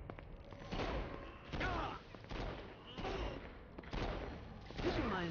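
Repeated gunfire bursts in the video game Saints Row: Gat Out of Hell on PS4, several heavy booming volleys spaced about a second apart, fairly dense and quiet overall.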